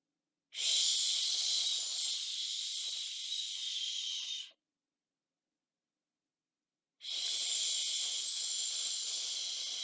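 Two long, steady shh exhalations, each about four seconds, breathed out close to the mic with a silent pause between them.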